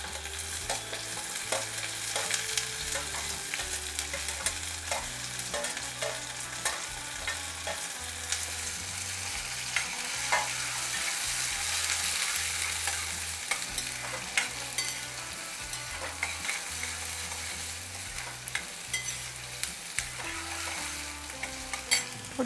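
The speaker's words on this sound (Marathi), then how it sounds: "त्यानंतर ही मिरची घालते, थोडा कांदा, आणि हे मटारचे दाणे." Chilli, onion and green peas fry and sizzle in a pan for tarri poha, a steady close crackle with repeated stirring scrapes and clinks of the spoon throughout, and no talking.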